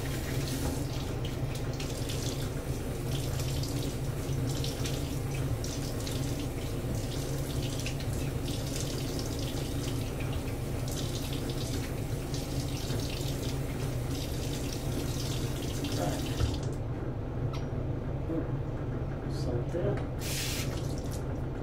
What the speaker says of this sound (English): let me go and rinse off for a second pass